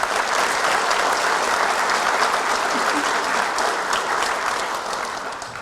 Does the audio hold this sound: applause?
yes